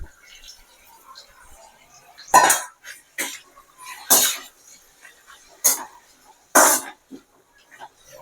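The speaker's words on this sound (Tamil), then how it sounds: "அடுத்தது நம்ம இந்த தக்காளியை இதில் இறக்கிடலாம்" Tomatoes added to a pan of sautéing mint leaves and stirred, heard as several sharp bursts of sizzling and spoon clatter against the pan, separated by quiet gaps, close by, with a little background voice.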